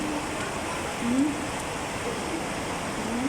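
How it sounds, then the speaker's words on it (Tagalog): Steady heavy rain hiss fills the scene, with a faint voice murmuring underneath now and then. "Malakas ang ulan."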